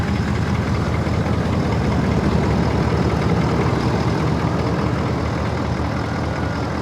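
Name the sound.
diesel truck engine idling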